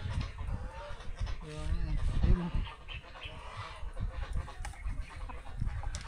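Chickens in a flooded yard with high water cluck in brief bursts under people talking nearby, amid a murky, noisy outdoor background.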